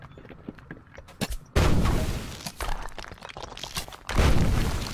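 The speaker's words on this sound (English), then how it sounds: "there we go, exploding barrels" Exploding barrels in the video game DDO, two loud booming blasts with rumbling decay, preceded by scattered clicks and small pops.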